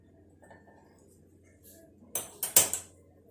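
A metal kadai is picked up and set on a stove, a quiet shuffle followed by a few sharp metallic clanks and knocks in quick succession.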